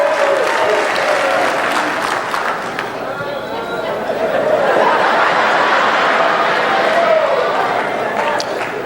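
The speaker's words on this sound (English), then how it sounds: "Who would ever want to be married with you clapping like that?" A stand-up comedy crowd of married audience members claps and cheers when asked to make some noise, a steady, fairly loud wash of applause with a few scattered laughs, briefly swelling midway.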